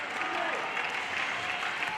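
A home crowd at an under-18 cricket match applauds a wicket with a brief burst of clapping and cheering, heard over a commentator's voice.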